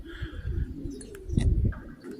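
Tippler pigeons flying during old-bird season training give soft cooing calls, close by, in two short bursts over steady low background rumble.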